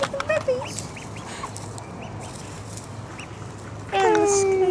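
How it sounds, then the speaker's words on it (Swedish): A duck on a lake, heard from a kayak, gives a few short calls early, then a louder, clearer call near the end over a background of rippling water and faint chirps. "Åh gud, en anka."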